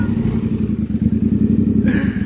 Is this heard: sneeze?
no